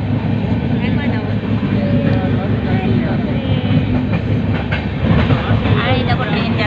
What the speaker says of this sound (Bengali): আর এই দেখো ট্রেন যাচ্ছে, ট্রেন যাচ্ছে দেখা যাচ্ছে।